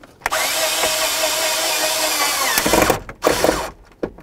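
A power drill driving screws into the shifter boot of a 1994-2004 Chevy S-10, a loud continuous whir for about two and a half seconds, then several shorter bursts and clicks as the screw seats.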